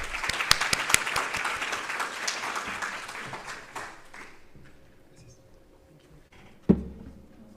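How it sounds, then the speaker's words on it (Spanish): Audience at an international blue carbon and wetlands conference applauds to welcome a speaker, a dense round of clapping that tapers off after about four seconds, then quiet with a single thump near the end. "Vamos a recibirlo con un cordial saludo y un aplauso"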